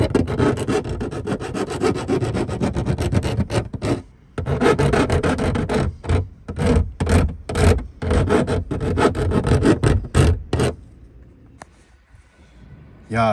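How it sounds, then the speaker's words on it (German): Metal file rasping back and forth over a freshly cut edge in a campervan build, deburring it smooth: loud, close rhythmic strokes in bursts with brief pauses, quieter at the end. "jetzt haben wir das schön glatt gefeilt hier, dass kein Grat mehr dran ist"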